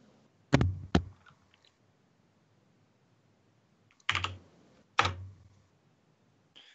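Computer keyboard in a home poker cash game setting, heard as two separated bursts of a couple of sharp key clacks each, fairly close and loud against near silence.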